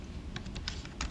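A web search is typed on a computer keyboard, a quick run of separate clicky keystrokes, close and fairly quiet, with no talk.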